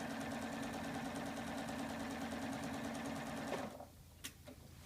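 Sewing machine stitching straight down the side of a quilt border, a loud, steady close-up motor whir with rapid needle rhythm that stops near the end, followed by a couple of faint clicks.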